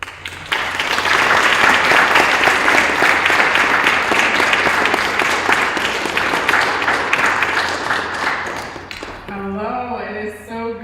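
An audience at the 2024 Nicholson Lecture breaks into loud, sustained applause welcoming Dr. Pamela McCarroll to the stage; the clapping carries on for several seconds, then fades out as a voice begins to speak.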